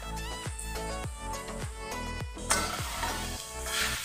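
Taro leaf greens with fried peanuts and a little sugar are stirred in a hot pan, a steady sizzle broken by about eight regular scraping strokes of a spoon against the metal, close and clear with no voices.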